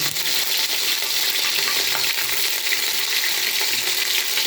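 Ground spice paste fries in a pan with green chilies nearby, giving a loud dense continuous sizzle with faint stirring scrapes throughout and no talking.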